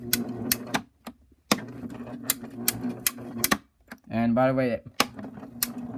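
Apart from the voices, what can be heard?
Royal Sovereign CO-1000 coin sorter clicking while running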